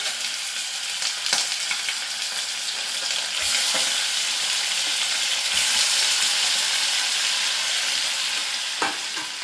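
Cleaned mutton sizzles loudly in hot oil in a pan for a lamb pepper roast, a dense continuous frying hiss broken by a few scraping stirs.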